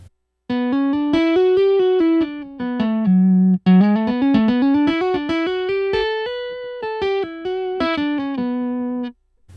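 Clean electric guitar through a MOD Duo amp model playing a single-note melodic line, bright and slightly warm with a touch of amp grit, notes clearly separated, alone and close.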